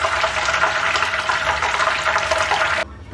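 Water poured steadily into a pan while cooking spicy karaboondi, a continuous close splashing flow that stops abruptly near the end.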